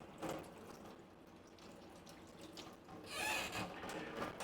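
Tap water runs steadily into a kitchen sink to rinse a slippery onion, a continuous splashing stream that swells louder toward the end, with no talk over it.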